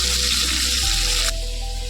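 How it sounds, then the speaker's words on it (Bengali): Prawns frying lightly in a pan give a loud, close, continuous hiss and sizzle of hot oil that steadies and eases slightly partway through, with no voices. "চিংড়ি মাছগুলো হালকা করে ভাজা হোক"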